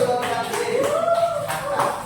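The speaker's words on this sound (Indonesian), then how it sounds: "Tepuk tangan dulu." A small group in a classroom claps briefly in a few uneven bursts while a voice talks over it.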